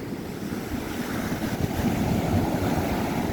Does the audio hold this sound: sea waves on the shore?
yes